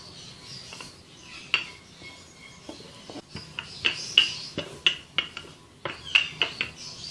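A rolling pin works oiled potato puri dough on a board, producing a series of light knocks and scraping rolls that grow more regular and rhythmic in the second half, close by with no talking.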